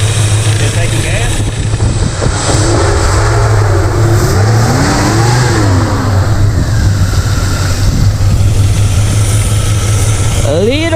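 A worn Chevrolet El Camino engine runs loud and close at a rough idle with a low steady drone, then revs up and down in a few swells, while people talk over it.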